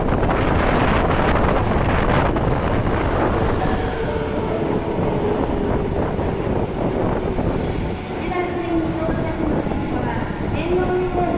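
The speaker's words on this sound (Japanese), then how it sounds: "1番線に八尾南行きが到着します。" An Osaka Metro Tanimachi Line train pulls into platform 1 at a subway station, a loud, steady rumble of wheels and rushing air that fills the whole stretch, with faint tonal squeals as it slows near the end.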